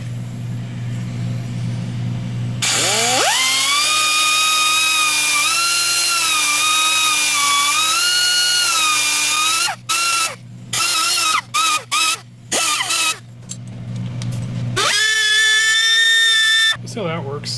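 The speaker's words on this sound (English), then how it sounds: "I'll probably lay in a die grinder, you know, at a modest angle, and then sandpaper rolled out." A die grinder clearances an Edelbrock cylinder head on a Pontiac engine for a T&D rocker shaft fit. Its loud, steady high whine runs for several seconds, breaks into a string of short on-off bursts, then returns for one more sustained pass.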